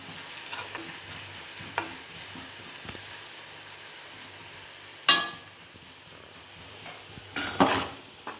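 Onions frying in oil in a pan for chicken biryani, a steady low sizzle with a few sharp clanks of a spoon stirring against the pan.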